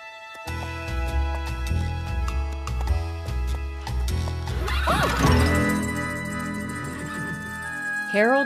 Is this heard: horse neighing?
yes